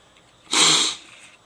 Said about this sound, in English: Sorry about the sniffling.